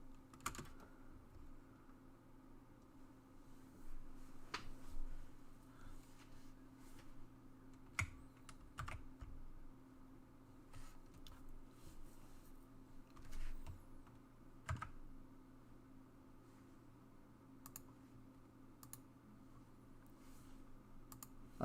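Quiet, steady clicking of keys on a computer keyboard, irregular typing with occasional louder taps over a low hum.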